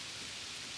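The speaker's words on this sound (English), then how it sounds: "Just clouds and rain. The rain falls straight down" Steady rain falling straight down on a windless night in New York City, a dense, even hiss of drops with no gusts, filling the short stretch at a constant moderate level.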